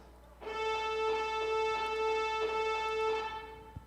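Two synthesized sawtooth waves detuned by a hertz play together as one bright buzzy sustained tone that slowly beats and wavers, steady and fairly quiet for about three seconds before it cuts off.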